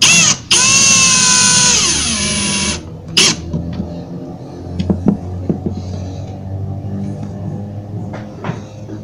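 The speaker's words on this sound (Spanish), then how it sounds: "en las perforaciones que acabas de hacer colocarás los tornillos" A power screwdriver drives screws into the drilled holes of a telescopic drawer slide, opening with a loud, close whining spin that winds down, followed by scattered clicks and taps of handling, without any talking.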